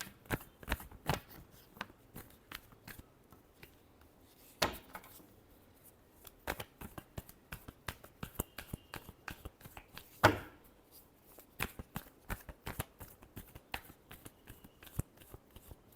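Tarot cards being shuffled by hand, a run of quick papery riffles and soft taps close by, with a sharper slap near the middle and no talking.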